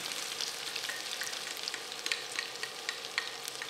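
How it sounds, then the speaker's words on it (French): Onions frying in butter in a skillet, a dense steady crackling sizzle with small pops and faint stirring, close and soft, with no voices. "mettez un peu de beurre dans votre poêle. Vous mettez vos oignons."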